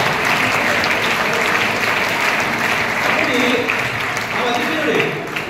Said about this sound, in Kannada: ಯಾರೋ ಜೋರಾಗಿ ಅವ್ರಿಗೆ ಜೋರಾಗಿ ಚಪ್ಪಾಳೆ ಹೊಡಿ